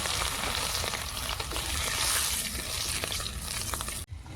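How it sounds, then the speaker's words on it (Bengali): Radhuni seeds and garlic sizzle and crackle steadily in hot oil for a tempering, a close, continuous frying hiss with faint stirring, cutting off abruptly near the end. "এবার ফোড়নে দেব রাঁধুনি কটা রসুন"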